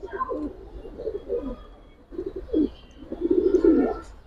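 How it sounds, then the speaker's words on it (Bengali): An old-line pigeon pair coos in rolling, repeated low phrases at close range, fairly loud, with a short pause midway and a fuller, stronger burst of cooing toward the end. "এক অনেক পুরান লাইনের কবুতর ভাই"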